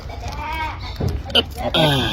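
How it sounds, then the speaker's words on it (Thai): Goat bleating on a farm, a couple of short wavering cries standing out over ongoing talk nearby. "เอาแพะออกไปเร็ว"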